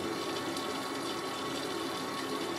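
A Miele W562 Prestige Plus 6 washing machine fills with water through its spray for a low-level final rinse, producing a constant, even rushing hiss that lasts the whole moment with no voices.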